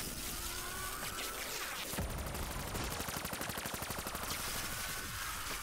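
Gunfire in the Call of Duty zombies map Der Riese, a dense burst of shots settling into rapid, evenly spaced automatic fire over a constant game din, with no talking.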